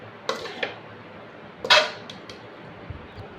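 Pasta being stirred into chilli sauce in a pan, a few sharp scattered clinks and scrapes of a utensil against the metal, with one louder scrape in the middle over a quiet background.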